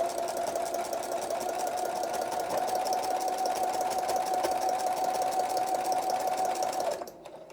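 A sewing machine back stitching homespun fabric for a rag quilt, a steady rapid mechanical whir running loud and continuous for about seven seconds before stopping abruptly.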